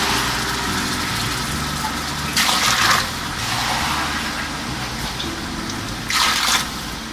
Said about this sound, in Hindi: तो मैंने चावलों में पानी डाल दिया है